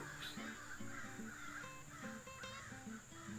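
Several crows caw repeatedly in short overlapping calls, at moderate distance over a faint steady background, with no talk.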